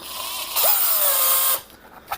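A small power drill bores a 3 mm hole in the plastic earcup of DIY Minelab metal-detector headphones, making one close, loud whining burst of about a second before it cuts off.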